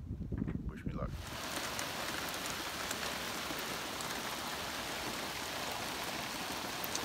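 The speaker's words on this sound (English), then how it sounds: "And it's pouring rain." Pouring rain at the ocean shore near a dinghy, a dense steady hiss that begins abruptly after a brief rumbling opening and continues loudly and evenly throughout.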